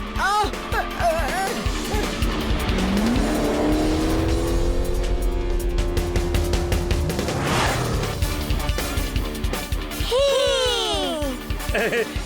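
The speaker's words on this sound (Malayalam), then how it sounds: "ടെമ്പോണന്റെ കാർ സ്റ്റാർട്ട് ആയെന്നാ തോന്നുന്നേ. ഇപ്പൊ ഞാൻ എന്തായാലും ഫുൾ സ്പീഡിൽ പോകേണ്ടി വരും" A cartoon race car revs and speeds off loud and close, with sustained rising engine tones, tire-squeal-like sweeps and zooming passes over a dense background throughout.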